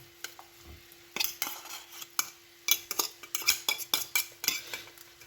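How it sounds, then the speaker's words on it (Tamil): Tinned fish and grated coconut being stirred together in a pan, with a utensil scraping and clinking against the metal in quick, irregular strokes, close by and with no voices. "இப்போ வந்து டின் மீனை சேர்த்து இந்த மாதிரி நல்லா மிக்ஸ் பண்ணுங்கள்"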